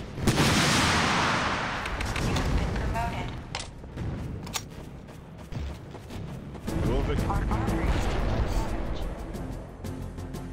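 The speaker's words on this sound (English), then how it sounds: "Those nades are just too aggressive." Grenade explosions and gunfire in a match of the video game Empires Source Mod on the emp_homeland map. Repeated booms and sharp shots come in bursts over a steady battle din, with voices talking over the chaos.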